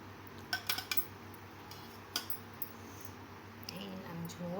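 A serving spoon clinks against dishes while potato is taken during a home Bengali lunch, a few light, close metallic taps and chinks with a faint voice nearby.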